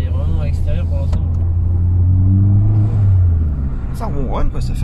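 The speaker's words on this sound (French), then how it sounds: "Ça ronronne, quoi, ça fait un bon son, c'est pas désagréable." A Peugeot 206 RC engine purrs at a steady low rumble while the car drives, a smooth continuous hum with people talking over it.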